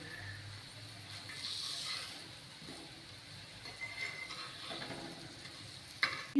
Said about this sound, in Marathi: अशा प्रकारे आपण ही सर्व बटाटी परतून घेणार आहोत